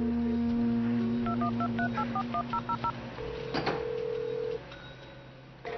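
A telephone being dialed, with a rapid sequence of touch-tone beeps over a steady dial tone, followed by a long ringing tone, close and clear with no talk.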